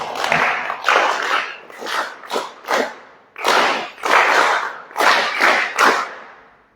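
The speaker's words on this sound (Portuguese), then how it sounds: "Batam lá palmas." Audience clapping at a youth alliance coordinating council gathering, delivered in about eight loud, distinct bursts of rhythmic group claps with brief gaps between them, close and without speech.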